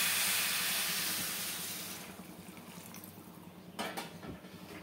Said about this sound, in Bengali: এবার আমি দিয়ে দেবো গরম জল